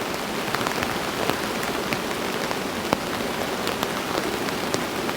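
Heavy rain drums steadily on the fabric of a tunnel tent, with a dense continuous patter and scattered sharper drop impacts, close and even throughout with no voices.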